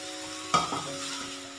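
Carrots and chicken are stirred in a pan: a single quick scrape of the spoon breaks in over a faint steady sizzle, then the gentle frying hiss carries on alone.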